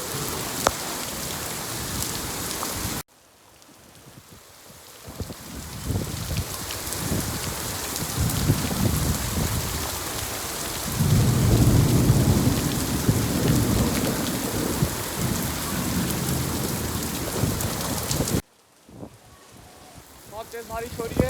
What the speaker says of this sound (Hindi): बहुत देर से बिजली कड़क रही थी और अब जाके बारिश स्टार्ट हुई है।